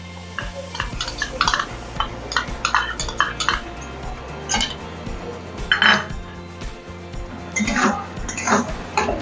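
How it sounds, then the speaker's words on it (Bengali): A spatula stirs ash gourd curry in a pan with milk and ghee, producing intermittent clinks and scrapes against the metal with short pauses between strokes, close and moderately loud. "একটু নাড়িয়ে নেবো"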